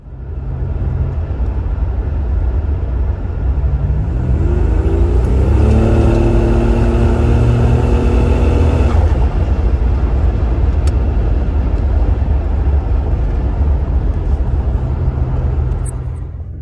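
Buick Grand National turbo car accelerating hard on a pass, a loud sustained engine roar with rising harmonics as it climbs through the revs, then a steady loud rumble of the car cruising, heard from inside with no talk.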